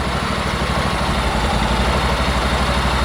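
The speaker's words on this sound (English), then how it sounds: "you can hear this engine just purrs along" A Honda NC750X DCT motorcycle engine with 229,000 km runs at a steady idle, a smooth, even low rumble that stays loud and constant throughout.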